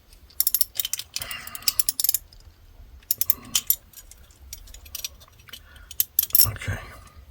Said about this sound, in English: Just get that locking nut behind there, like nice and snug